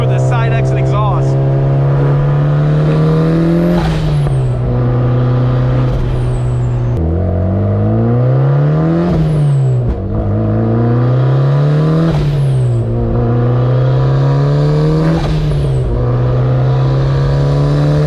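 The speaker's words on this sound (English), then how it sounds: "It sounds amazing too with the side exit exhaust." A built turbocharged Mazda Miata of about 400 horsepower with a side exit exhaust accelerates hard from inside the car, loud and close, its engine note climbing through repeated rises with brief dips at each gear change.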